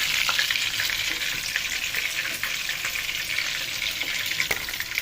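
Chicken tikka fries in a pan with a steady, bright, crackling sizzle and occasional sharp pops throughout, close up and without speech.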